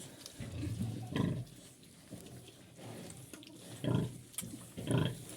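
Twelve-day-old piglets squeal and grunt in short bursts around a feeding trough, several loud calls spaced irregularly over a steady barn background.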